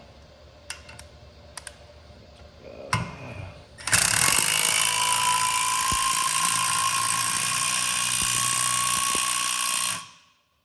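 A taper bearing being extracted from a Marathon electric motor: a few sharp metallic clicks, then a sustained loud mechanical whir with a grinding, buzzing tone for about six seconds before stopping abruptly.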